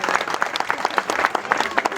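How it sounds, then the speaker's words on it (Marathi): An audience at an Ambedkar Jayanti gathering claps to welcome a team: dense, loud, continuous applause from a sizable crowd, with a voice faintly mixed in. "सर्वांनी एकदा टाळ्या वाजून स्वागत करायचं आहे"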